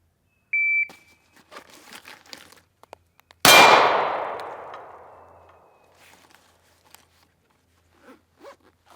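A shot timer beep is followed moments later by a single sharp gunshot ringing off a white steel target on a shooting range, with the metallic ring decaying over a couple of seconds and a few faint handling sounds around it.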